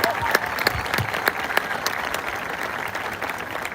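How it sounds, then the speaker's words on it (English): Crowd applause for office staff at a school ice cream social, loud and dense clapping filling the whole stretch, with a few sharper individual claps and faint voices mixed in. "So give those guys a round of applause for me too."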